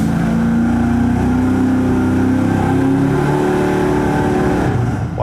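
A car engine runs on a dyno in a carburetor versus EFI comparison. It drones loud and steady with a rough, rumbling tone that holds without a break, then tails off slightly at the very end.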